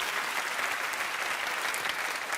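Audience applause at a stage show, dense steady clapping throughout at moderate level, with no voices.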